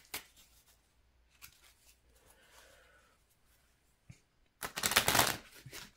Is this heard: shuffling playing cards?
yes